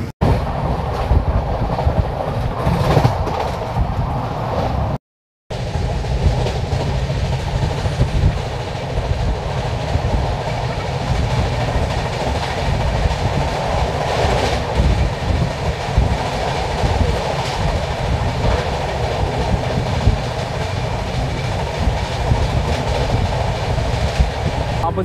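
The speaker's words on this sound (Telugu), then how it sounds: "మన ట్రైన్ అయితే బయలుదేరిపోయింది" The Konark Express rolls steadily along the rails with a loud, continuous rumble and faint clickety-clack, heard from inside the carriage, with a brief dropout early on.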